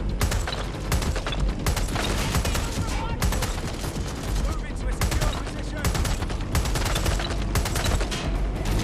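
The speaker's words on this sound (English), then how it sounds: "Is there a range limit on the machine gun?" Machine gun fire in the video game Watch Dogs Legion, dense rapid bursts of gunshots crackling almost without pause, loud and close throughout.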